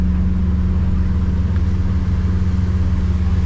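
Twin Yamaha F200 outboard motors on a 2025 Defiance 26 boat, a loud steady low drone held at one even pitch throughout, with no speech over it.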